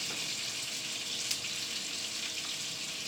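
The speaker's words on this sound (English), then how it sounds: "let it sit until it kind of stops doing that sizzle" Butter melting onto a hot steak in a pan with the burner just turned off gives a steady, close hiss of sizzling, even and continuous with one brief pop.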